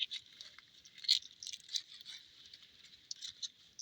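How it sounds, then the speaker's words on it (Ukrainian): Tonda Gentile hazelnuts are shelled by hand from their husks, giving close, irregular dry crackles, snaps and rustling tears in short bursts, with one louder crack near the middle and no talking. "Зараз я кілька горішків вилущу."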